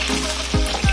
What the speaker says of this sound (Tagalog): Tapos, ipreto ko pa rin konti yung chicken.